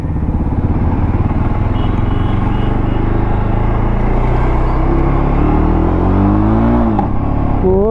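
A Jawa 42 Bobber motorcycle engine fires up and runs loud and close, its steady thumping idle swelling into a rising rev near the end.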